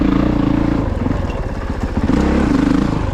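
Honda CRF450RX dirt bike ripping along single-track woods trails, its engine revving hard and rising and falling close by, with some clatter from the terrain and no talking.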